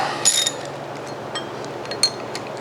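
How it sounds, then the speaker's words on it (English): A reversed ratchet backs out the screws on a taper bushing, giving short metallic clicking runs with a few sharper clinks, close and fairly quiet. "So reverse my ratchet."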